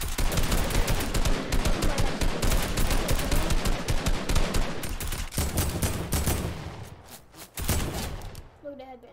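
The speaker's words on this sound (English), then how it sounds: "We're shooting at these guys down here." Rapid, dense gunfire from Fortnite weapons rattles almost continuously in loud bursts, thinning out near the end, with speech mixed in underneath.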